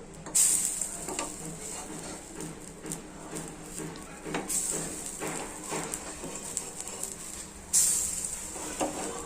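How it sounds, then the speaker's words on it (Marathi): A puffed rice and curd snack fries in a pan as a spatula flips it, with a steady close sizzle and scattered scraping knocks, plus occasional sharper hissing bursts. "बघा आता मी पलटून घेत आहे"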